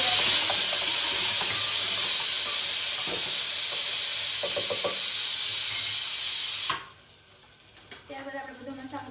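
Cumin and mustard seeds sizzle loudly in hot oil in a pan while cooking a stuffed eggplant and potato curry, a dense steady hiss that cuts off abruptly, leaving faint crackles and clinks.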